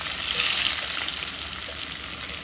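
Onion, cinnamon, bay leaves, cloves and black pepper frying in hot oil for a chicken gizzard curry, a steady loud hiss and sizzle with no voices.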